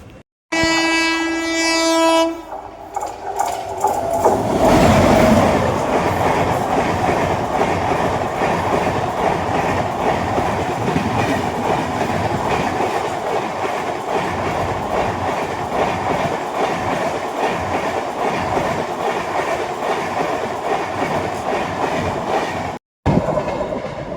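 A train runs past at Bomma Samudram railway station on a journey from Tirupati toward Arunachalam, a loud continuous rumble with rail clatter and a brief horn at the start, steady until an abrupt end.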